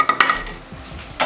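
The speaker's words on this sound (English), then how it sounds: "Give that a good stir." Brief stirring of coriander into lamb bhuna in a pot, a few close spoon scrapes and clinks against the metal with a soft bubbling simmer underneath.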